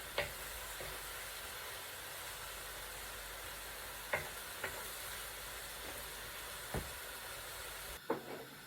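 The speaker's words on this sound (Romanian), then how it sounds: "Le vom lăsa la călit până se duce absolut toată zeama care și-a lăsat-o" Food frying in a pan while its released juices cook off, giving a steady hiss and sizzle with occasional soft clinks of stirring.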